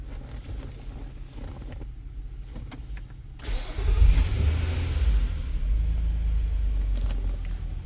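A 2015 Nissan Pathfinder engine cranks and catches close by after a few seconds of quiet clicks and hum, then settles into a steady low idle rumble.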